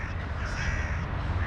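Crows caw outdoors where seagulls gather, forming a dense, continuous wash of calls mixed with steady background noise and no speech.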